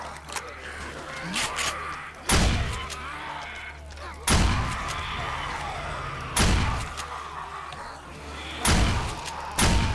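Zombies in the 7 Days to Die video game batter different parts of a wall, heavy thuds and slams landing roughly every two seconds over a busy background of game noise.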